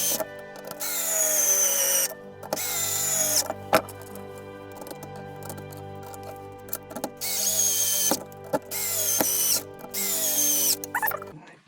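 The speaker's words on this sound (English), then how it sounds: "If sometimes you hear this tool making tack, tack, tack, tack" Power tool driving screws into a Tamiya 1/10 RC chassis during assembly, with long whirring bursts separated by pauses and sharp clicks, close and fairly loud with no talking.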